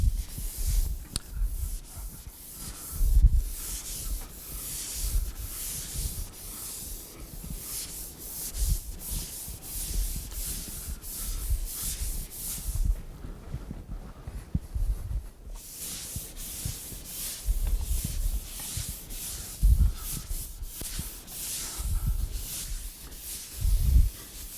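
A wet sponge wipes a classroom blackboard clean in steady rubbing, scrubbing strokes that repeat continuously for over twenty seconds, close and fairly quiet, with no talking.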